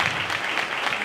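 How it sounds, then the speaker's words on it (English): An audience at an evening speaking panel event claps steadily, a dense, continuous burst of many hands close and loud throughout the short moment. "everybody give yourself a round of applause for being here tonight"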